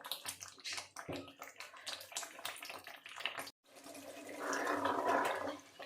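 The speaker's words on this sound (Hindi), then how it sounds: "साग अब तकरीबन बनने वाला है। छींटे जो है बाहर आनी शुरू हो गई हैं।" Mustard greens (sarson ka saag) cooking in a pot, first with scattered sharp pops and spatters, then a denser bubbling hiss that swells and holds near the end, close by, with no talking.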